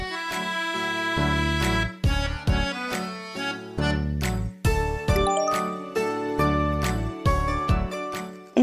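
A phone rings with a bright, tinkling melodic ringtone that repeats in steady phrases, loud and close, with no talking over it.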